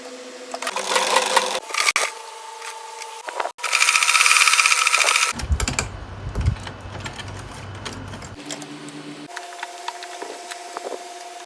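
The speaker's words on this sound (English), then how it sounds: "I'm going to start sewing" A sewing machine stitches an Ankara fabric gown with a 1-inch seam allowance. The motor whirs in several bursts with short pauses between them. One loud, dense run in the middle is followed by a quieter low hum, and no one speaks.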